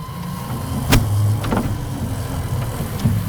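A Postman Pat toy van fitted with a Surron electric motor creeps forward on a touch of throttle, giving off a steady close whirring hum broken by a few light clicks and knocks.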